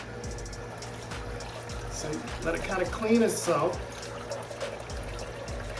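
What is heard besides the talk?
fresh water poured into a running juicer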